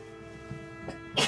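A single quick human sneeze bursts out at the very end, short and fairly loud, after a quiet stretch with faint breathy sounds and low game background.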